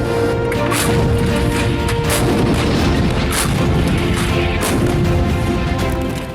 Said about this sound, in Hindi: पहली किरण के साथ ही धमाके शुरू हो जाते हैं।